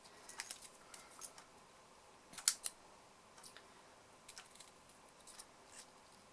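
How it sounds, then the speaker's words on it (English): Scissors snip the ribbon banner tails on a long, thin gift bag, making faint, close, crisp cuts scattered across a quiet room, with one sharper snip in the middle. "I'm just going to cut my banners, my banner tails should I say."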